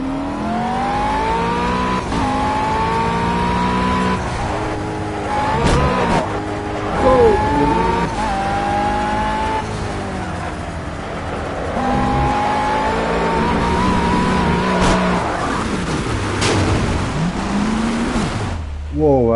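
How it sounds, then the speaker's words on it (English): Race car engine in the Project Cars racing game, revving and shifting through gears with rising and falling harmonic whines, continuous and loud throughout, with occasional tire noise near the end. "Car sounds so nice."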